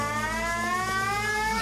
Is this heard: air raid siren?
yes